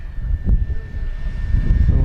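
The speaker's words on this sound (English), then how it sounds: "All right, here we go, full throttle coming by." A BlitzRC Mk24 Supermarine Spitfire RC warbird, 1100mm span on a 4s battery, passes at full throttle. Its electric motor gives a steady buzzing drone with a low rumble of wind, fairly close and unbroken.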